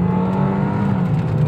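A 2018 Suzuki Ertiga automatic accelerates hard, its engine holding a loud, steady drone close by for a brief moment with no talking.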